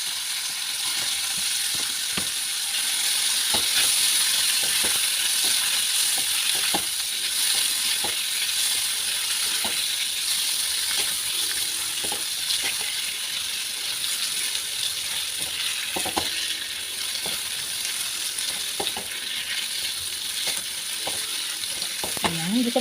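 Tofu sautés in a pan with a steady frying sizzle throughout, broken by scattered scrapes and clinks of a utensil stirring against the pan, close and moderately loud.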